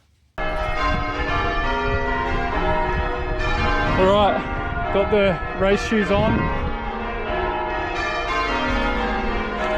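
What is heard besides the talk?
cathedral bells ringing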